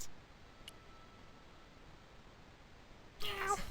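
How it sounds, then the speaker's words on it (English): A cat meows in the Broken Sword II point-and-click game, a short bright call arriving at the end over a low steady ambient hiss, with a faint earlier chirp. "A kitty cat."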